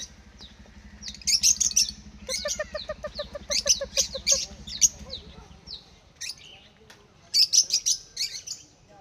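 Birds chirp in short, bright clusters of high tweets, repeated several times, with a low steady hum and soft clucking underneath.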